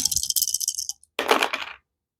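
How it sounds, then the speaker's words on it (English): Four dice tumbling and clattering on a tabletop during a solo game of Tiny Epic Galaxies, two close, bright bursts of rattling separated by a short gap, with no talking. "So let's go ahead and roll 4 dice again."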